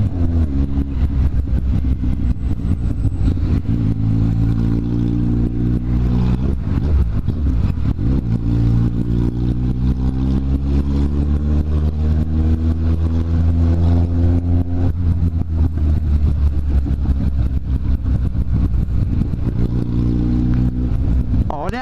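A green Kawasaki Z750 motorcycle being ridden, its mid-pitched engine loud and continuous with rising and falling revs as it accelerates and eases off, with no talk over it.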